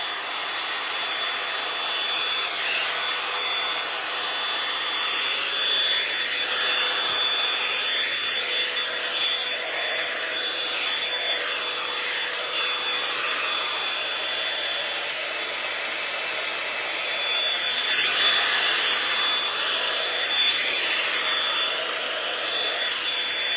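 A L'ange Multi Volume hair dryer blows steadily on hair, a constant airy whirring hiss with slight swells as it moves, close and alone with no talk.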